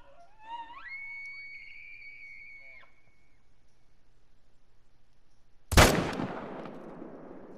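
After rising whistle-like calls, a single loud rifle shot cracks at a bull elk in a hunting video game, fired from a tripod. The sharp blast is followed by a decaying echo tail.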